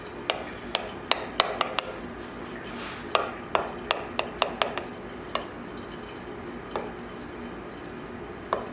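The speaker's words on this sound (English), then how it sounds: "Get a knife and I cut it in fours" A kitchen knife chopping through food on a cutting board, a run of sharp, closely spaced taps and clicks in two bursts, then a few scattered knocks, near and fairly clear over a quiet room.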